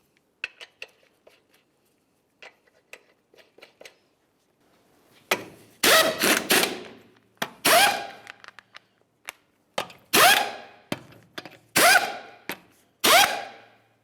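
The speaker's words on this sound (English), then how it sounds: "Start on all 5 of your 22mm lug nuts, bottom them out." Lug nuts, 22mm, are spun onto the studs of a 2005-2010 Dodge Dakota wheel by hand, starting with faint clicks and scrapes, then several loud metallic ratcheting bursts in quick succession, close by.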